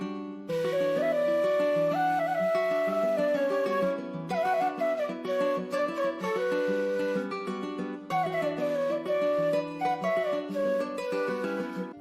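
A Retos Dizzy phrases Kontakt sample bank plays a four-note figure, sustained melodic tones with rich harmonics repeating in two similar cycles, steady and close with no voices.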